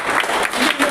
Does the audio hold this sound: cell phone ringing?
no